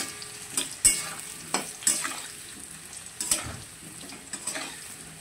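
Potatoes tossed into a hot wok over mustard seed tempering, a steady frying sizzle broken by several louder clattering stirs and scrapes at irregular intervals, with no talk.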